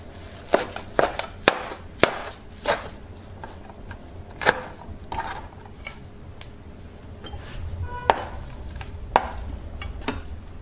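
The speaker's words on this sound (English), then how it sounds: "You put all together and then you have to chop." Parsley and salad ingredients chopped on a board, with a knife striking in sharp, irregular clusters of taps that are close and fairly loud, separated by short pauses.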